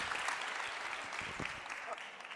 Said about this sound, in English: If everyone would give Conrad a clap for moderating this today.